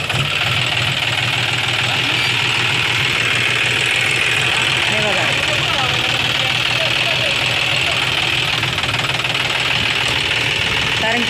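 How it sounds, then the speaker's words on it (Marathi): A tractor engine idling close by, a loud steady low chugging throb that continues throughout. "हा ट्रॅक्टर आम्ही लावतोय"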